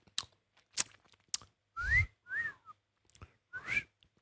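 A man attempts wolf whistles, several rising-then-falling whistled tones in separate bursts between short clicks and breaths, fairly close and alone with no talk.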